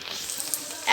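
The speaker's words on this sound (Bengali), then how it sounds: "এখন আমি এতে দিব আদা রসুনের বাটা।" Ginger garlic paste goes into onions frying in a pan for a chicken bhuna, giving a steady close hissing sizzle that swells slightly at the end of the brief moment.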